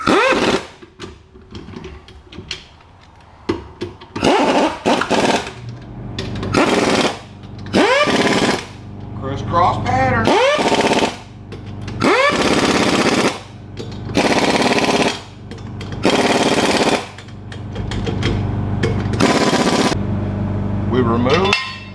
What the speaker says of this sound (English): We tighten up our lug nuts.